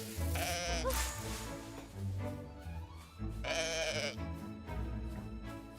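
Goats bleat in the video game Mai Child of Ages: two loud, wavering bleats stand out clearly against a busy in-game background, with no talking.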